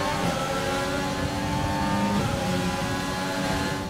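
A Formula 1 car with a Renault engine in F1 2020 drones loudly and steadily at high revs, a constant dense engine whine held throughout with no talk over it.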